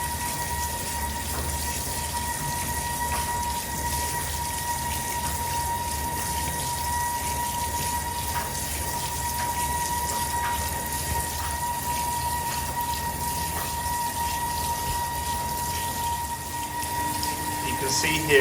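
Hot water runs continuously into a Fisher & Paykel Intuitive washing machine, a steady rushing flow with a faint squeaky tone layered over it throughout.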